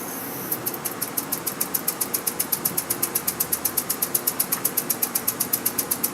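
A homemade spool valve model engine runs at under 5 pounds of pressure, giving a steady, rapid train of sharp mechanical chuffs and clicks that hold an even rhythm, close and clear, with no talking.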